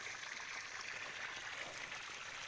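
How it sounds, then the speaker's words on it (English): Irrigation water gushes at high speed from an open valve in a steady, dense rush. It is fairly faint and continuous, with no other sounds. "the water is running very heavy. The valve is open and water is coming out high speed"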